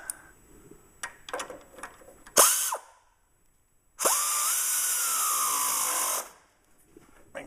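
Power tool driving a new nut onto a stud while a steering stabilizer is installed on an off-road vehicle: a few short clicks, then a brief whir and a longer two-second spinning burst, close and clear.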